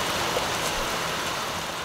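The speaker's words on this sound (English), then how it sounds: "Rain, hail, and sun" Rain mixed with hail pouring down outdoors at a building site in Mongolia, a dense, steady hiss of drops drumming on surfaces, loud and close with no voices.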